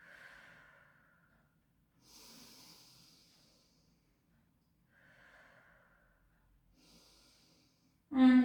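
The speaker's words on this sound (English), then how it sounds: "Take a beautiful breath in, let the belly rise." Slow, deep breaths during a pilates class come in soft, separate waves of airy inhales and exhales with quiet gaps between them, ending in a sudden louder burst.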